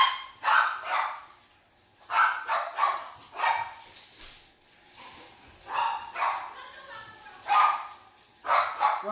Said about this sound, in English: Making the dog make all kind of ruckus.